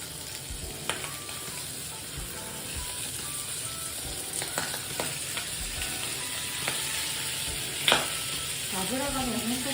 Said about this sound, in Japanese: 油がね、本当によく跳ねるので、こんな感じですね